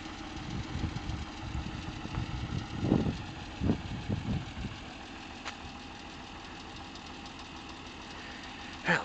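A 1991 Acura NSX with a manual gearbox idling: a low, even engine hum held steady throughout, with a few brief knocks and bumps early on and no clear talk.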